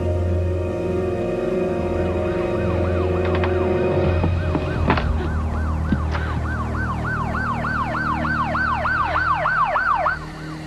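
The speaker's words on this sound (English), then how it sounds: "Maybe the sirens scared him away." A wailing siren rises and falls repeatedly, growing into a steady, loud cycling wail over a background of traffic rumble.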